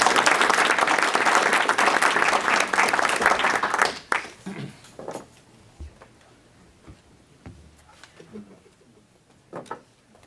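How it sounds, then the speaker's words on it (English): Audience applause at a high school district board meeting, dense clapping for about four seconds that stops abruptly, leaving a few scattered claps and faint room noise. "So how about another round of applause?"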